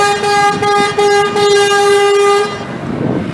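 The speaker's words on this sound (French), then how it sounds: "Le fameux camion poubelle qu'on entend régulièrement." A garbage truck sounds a long, loud, steady horn blast on a street in Dakar, Senegal, held for about two seconds before cutting off, with city traffic behind.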